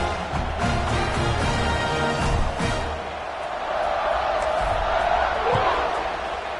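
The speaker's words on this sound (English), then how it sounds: "this crowd is buzzing after that last score" A football stadium crowd buzzes at home after a score, ahead of a kickoff, a loud, continuous roar with swelling cheers and scattered shouts throughout.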